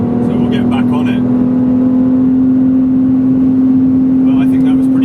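A BMW Z4 runs flat out on the Autobahn, a steady droning engine hum mixed with loud road and wind rush, with someone talking briefly at the start and end.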